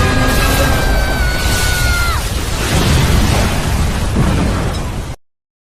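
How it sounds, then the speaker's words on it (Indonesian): A loud, roaring explosion blast that keeps rumbling for several seconds, preceded by a falling whistle, then cuts off abruptly. "terjadilah ledakan yang sangat besar di tempat itu."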